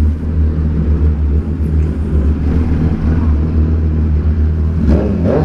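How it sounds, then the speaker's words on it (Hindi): Engine note from a vehicle on a short breakfast ride, a steady low rumble that holds throughout with a slight rise in revs near the end, loud and close with no voices. "यहाँ में फिर रेव देंगे।"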